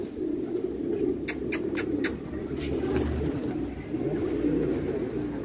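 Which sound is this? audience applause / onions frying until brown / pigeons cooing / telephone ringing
pigeons cooing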